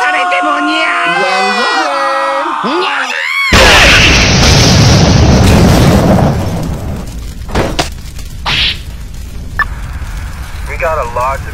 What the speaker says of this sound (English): We got a large explosion reported in Northwood, possible terrorist involvement.